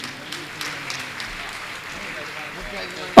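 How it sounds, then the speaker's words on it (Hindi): Soft, scattered audience applause at a Jain religious gathering with a Muni, with murmuring voices underneath before a sudden loud burst at the end. "आपकी तालियां तो बजनी चाहिए"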